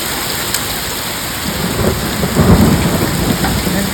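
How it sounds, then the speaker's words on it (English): A thunderstorm pours heavy rain in a steady roar, and a deep rumble of thunder swells in the middle before fading back under the rainfall. "It's thundering."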